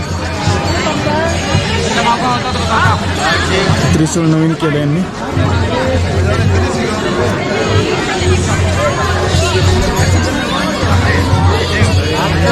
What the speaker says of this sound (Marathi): हे बघा या भीमशिलेपाशी एवढी गर्दी जाम.